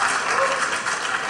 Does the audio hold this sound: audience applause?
yes